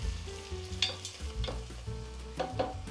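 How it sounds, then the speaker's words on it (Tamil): Green chillies sauté with onion, ginger and garlic in a pan, giving a soft sizzle with scraping stir strokes, close and quiet, with no voices. "3 பச்சை மிளகாய் நீளமாக கட் பண்ணி வச்சுருக்கிறேன், அதை சேர்த்துக்கிறேன். இதையும் நல்லா வதக்கிக்கோங்க."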